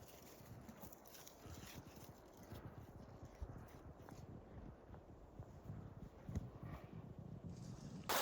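Horses pushing downhill through brush on a deer hunt, with steady muffled hoof thuds and crackling, rustling vegetation throughout, fairly close, growing a little louder toward the end.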